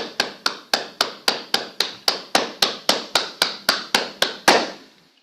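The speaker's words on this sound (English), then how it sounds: "Let's give her a clap, please." Clapping for Nicole Whyte, named best speaker at a Toastmasters-style leadership club meeting: evenly spaced sharp claps, about three per second for five seconds, sounding like a single steady pair of hands or a small group clapping in unison.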